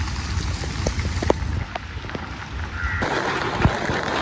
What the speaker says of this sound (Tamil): இப்போ மழை பெய்து ஓடிக்கொண்டிருக்கு பாருங்க